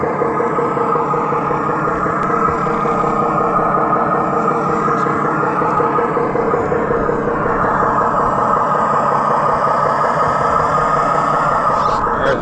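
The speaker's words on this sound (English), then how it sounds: "there's a new sound effect on Avas. It's Mack E7," An electric unicycle's acoustic vehicle alerting system plays a simulated Mack E7 truck engine sound, a loud, steady, droning rumble that holds evenly throughout with no talking.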